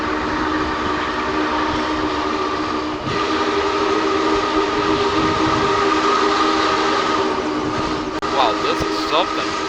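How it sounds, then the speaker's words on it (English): A distant steam locomotive whistle sounds over the steady rumble and clatter of a passing train during a test run of the SP&S 901 Challenger, with brief whistle blasts near the end and a voice speaking. "until we heard a whistle off a distance"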